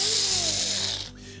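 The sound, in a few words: removing screws behind range control knob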